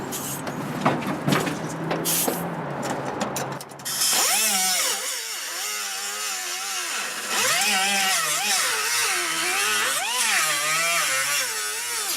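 A Sawzall reciprocating saw cuts through rusted metal, starting with rattling clatter and then settling into a loud, wavering mechanical whine whose pitch rises and dips as the blade works.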